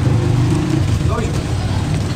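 A Honda City car engine runs steadily nearby as the car is sent off, a loud low drone that stays fairly even throughout.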